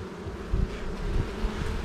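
Honey bees drone around an open beehive, a dense, steady buzz close by with small swells and no talk.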